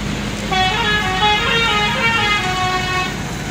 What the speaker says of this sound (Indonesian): Kali ini ada bus ALS